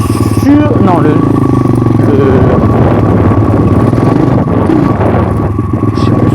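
A motorcycle engine lugs at low revs in third gear, a deep, steady, labouring rumble heard up close, with a voice talking over it.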